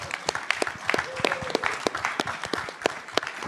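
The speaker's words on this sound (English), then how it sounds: "we could clap." A small group at a city council meeting claps for a few seconds, sharp uneven hand claps close by, with a brief murmur of voices underneath.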